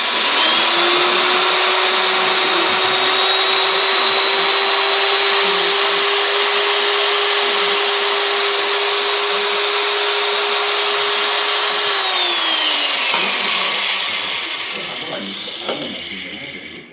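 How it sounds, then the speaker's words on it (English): A power sander with finer sandpaper works the top of a wooden lattice box, a loud, steady motor whine and abrasive hiss that holds evenly, then winds down and fades near the end. "Now I'm going to do a little more sanding with a finer sandpaper."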